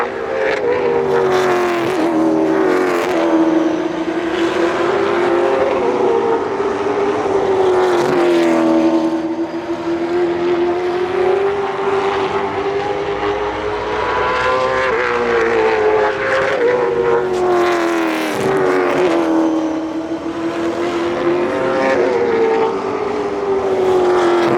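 An 800 hp Nissan R35 GTR drives with a loud, steady engine drone that rises and falls as it revs through gears, close and sustained with no talking.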